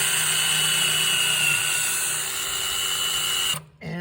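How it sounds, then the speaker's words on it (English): A battery drill with a 17/64 drill bit, cooled with antifreeze, bores steadily through wood, its loud whine holding for about three and a half seconds before it abruptly stops. "Once you drill through the wood"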